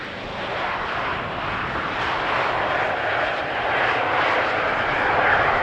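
Jet airliner landing on runway 18R at Amsterdam Schiphol Airport, a loud, steady engine roar with broad rushing noise that swells slightly toward the end, heard alone with no talking.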